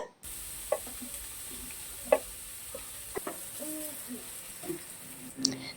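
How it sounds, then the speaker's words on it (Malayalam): Chopped ingredients with soya chunks sauté in coconut oil over a medium flame, giving a steady low sizzle with occasional stirring clinks, while someone talks over it. "നല്ലൊരു ബ്രൗൺ കളർ ആവുന്ന വരെ ഒന്ന് വഴറ്റിക്കൊണ്ടിരിക്കുക"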